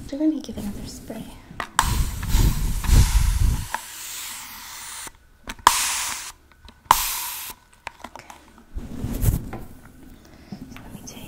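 A spray bottle misting hair during a soft-spoken haircut with professional scissors, several close hissing spritzes separated by quiet gaps, with whispering between them.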